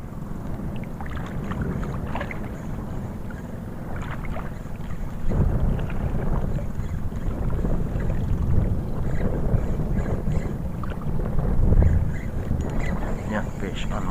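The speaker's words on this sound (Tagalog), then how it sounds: "Lakas kasi ng hangin." Strong wind buffets a small fishing boat on open water, a steady broadband rush that swells louder around the middle, with brief talk mixed in.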